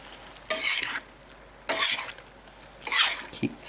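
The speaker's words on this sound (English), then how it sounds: "Keep stirring it." Garlic mixture is stirred in a pan after the heat is turned off: three separate bursts of scraping and light sizzle, each about half a second long, close and clear against a quiet background, with no speech.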